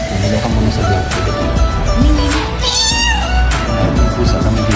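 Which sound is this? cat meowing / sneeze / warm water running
cat meowing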